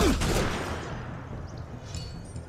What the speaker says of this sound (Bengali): ওই যে গুলি করে